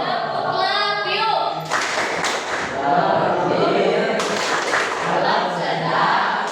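Audience clapping out a patterned 'love you' rhythm, bursts of claps in groups at a lively gathering, with talk and voices continuing over them.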